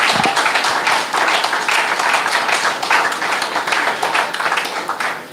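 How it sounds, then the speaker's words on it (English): An audience at a school alumni reunion evening gives a standing ovation, clapping in a full, sustained round that stays loud and steady throughout. "let's give Brother Jimmy a standing round of applause"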